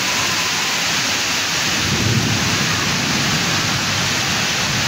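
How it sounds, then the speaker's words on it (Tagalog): Heavy rain pours steadily in a downpour, with low rolling thunder swelling near the middle under a dense, constant roar of water, loud and close throughout. "Napakalakas na ulan."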